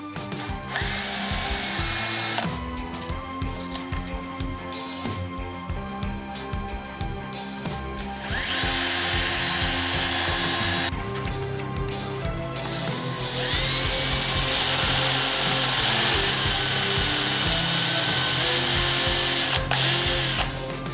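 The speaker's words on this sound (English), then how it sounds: "I just need to do a little trimming and drill some new holes" A power drill whirs through repeated bursts, drilling holes in bracketry for a Honda three-wheeler suspension fork, spinning up and biting in with grinding pitch changes, loud and close with short pauses between holes.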